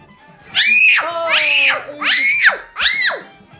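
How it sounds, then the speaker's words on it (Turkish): Loud, high-pitched screams from someone fleeing a giant frog in a Roblox escape obby, four long wailing shrieks in a row, each rising and falling, close and alone with no talk over them. "Neden bağırıyorsun?"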